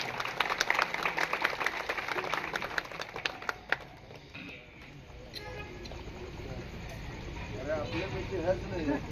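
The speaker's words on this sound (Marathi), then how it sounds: "जोरदार टाळ्या होते, जोरदार." A crowd applauds at an election campaign rally in Koregaon town, a burst of dense clapping over the first few seconds that gives way to crowd noise and a speaking voice.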